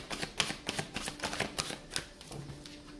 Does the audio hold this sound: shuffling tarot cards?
yes